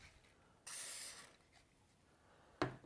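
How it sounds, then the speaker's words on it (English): A short hiss of chain lube sprayed into a Husqvarna chainsaw pull starter lasting about half a second, followed by quiet handling noises and a brief sharp spurt near the end. "spray some chain lube in there"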